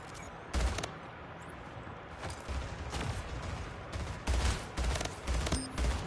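Rapid gunfire bursts in the video game Splitgate, with repeated sharp shots in quick clusters over a steady background of game sound, loud and close throughout.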